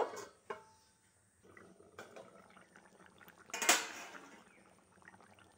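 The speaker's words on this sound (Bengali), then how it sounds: "এবার আমি ঢাকা দিয়ে ফুটতে দেব।" A lid clatters onto a metal pot of fish curry being set to boil, a sharp clink near the middle amid faint kitchen clatter and soft scraping, close and fairly quiet.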